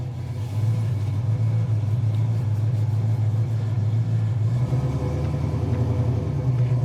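A 1970 Ford Mustang Fastback engine rumbling steadily through a newly fitted exhaust, a deep, even burble that shifts slightly lower partway through, heard close with no voices.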